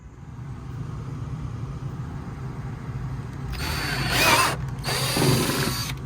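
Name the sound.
power drill drilling a hole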